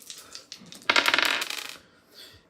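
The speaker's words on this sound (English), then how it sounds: "I'm going to do the dice again." Dice rolled by hand, a short close rattling clatter of bouncing dice lasting under a second, with quiet moments before and after.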